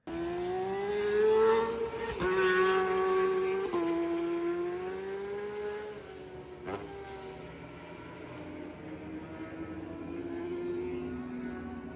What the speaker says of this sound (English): This looks like there was a race going on. So I took some footage of the race.